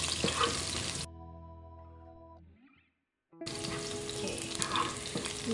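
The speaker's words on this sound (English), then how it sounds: "First, let's add the garlic. We'll fry it a little bit." Garlic fries in oil in a pan over medium-high heat, giving a close, bright sizzle that cuts out into near silence midway and then returns just as strongly, with no one speaking.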